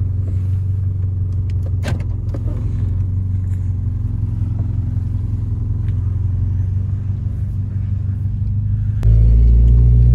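Steady low engine rumble heard from inside a car, constant and close, with a brief click near the end as the idle note shifts to a deeper, louder hum.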